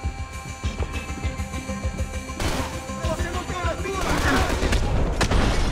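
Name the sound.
SMG gunfire in video game Max Payne 3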